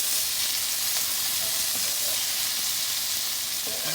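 Chunks of beef stew meat sizzle and fry steadily in a pan, a dense, continuous crackling hiss with a few faint scrapes as the pieces are turned over, close and without talk.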